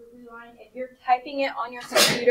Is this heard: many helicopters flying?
no